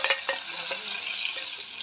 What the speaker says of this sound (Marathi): त्याच्यानंतर मी जिरे ॲड करते फोडणीसाठी.